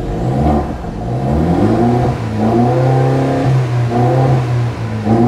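A 2.8-litre turbocharged car engine revs steadily in a parked car, its loud mid-range drone rising and falling through several throttle blips with no talk over it.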